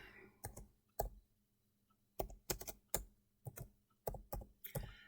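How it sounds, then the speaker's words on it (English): Fingers type on a computer keyboard in quiet, close bursts of rapid clicking keystrokes separated by short pauses, with no talk. "So we're just going to type up here web test."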